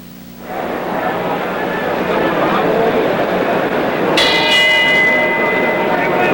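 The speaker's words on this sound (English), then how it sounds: "The bell for round 8." A bright metallic boxing ring bell signals round 8, ringing out clearly over a loud, continuous crowd roar, its tone ringing on and fading slowly.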